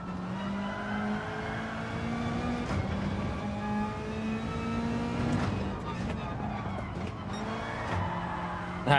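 Gran Turismo 7 car engine drones and revs steadily with tire squeal and skidding, a voice talking over it.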